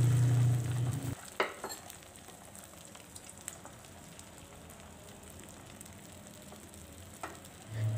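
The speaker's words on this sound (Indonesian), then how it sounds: "langsung di sini akan saya dadar. Sebelumnya sudah saya tuang minyak dan sudah panas." Beaten eggs poured into hot oil for a crispy omelette, a steady broad sizzle and crackle that starts with a sharp hiss and continues evenly, close and moderately loud with no talk.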